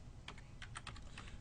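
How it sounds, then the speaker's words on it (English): A formula being typed on a computer keyboard for a spreadsheet, a quick run of soft, close keystrokes over a low steady background hum, with no voice. "I'm going to type SUMIF."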